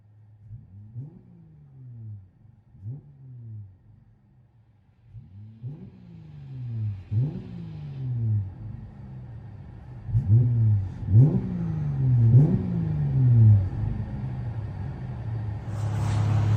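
A 2020 Dodge Challenger V6 with dual exhaust and a rear resonator delete is heard from inside the car, with repeated throaty revs rising and falling in a rhythmic series over a deep rumbling idle.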